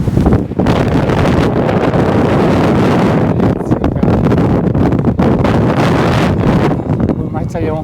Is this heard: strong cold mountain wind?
yes